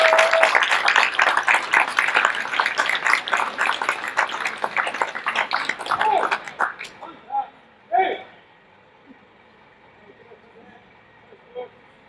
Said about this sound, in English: Ladies and gentlemen, a round of applause for the first exercise, please.